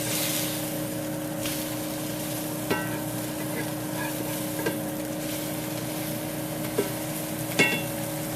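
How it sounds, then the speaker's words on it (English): Food fries over an outdoor cooking fire with a steady, soft crackling sizzle and occasional small pops, a faint background hum running underneath. "Listen to that sizzle."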